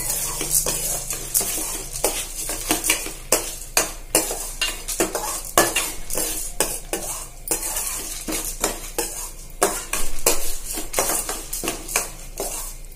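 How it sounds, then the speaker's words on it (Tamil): Chillies, pepper and fenugreek are dry-roasted in a pan for curry leaves powder. Repeated close scraping and stirring strokes of a utensil against the metal pan carry over a faint background hiss. "இப்போ நல்லா கோல்டன் ப்ரௌன் ஆகும், அந்த அளவுக்கு நல்லா நம்ம ஃப்ரை பண்ணணும்"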